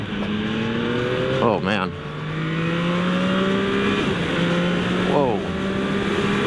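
Yamaha MT-09 SP motorcycle accelerating hard on a highway, loud and close, its engine note climbing through the gears with two sharp rising sweeps at each shift over steady wind roar, while a rider exclaims briefly.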